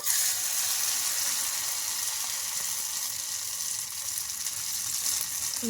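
Egg and wheat rava breakfast frying in a spoonful of oil on a pan, a steady close sizzle with a bright crackling hiss that holds evenly throughout, no voices over it.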